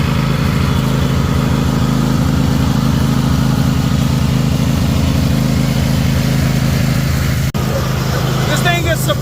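A small tractor engine runs steadily while driving around, a loud, close, chugging drone with a fast pulsing beat that holds for the whole stretch.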